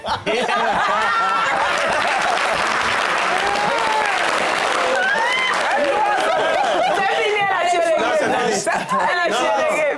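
Studio audience applauding for Blanche Moro on a French entertainment show, loud sustained clapping mixed with chatter and light laughter, voices talking over the crowd.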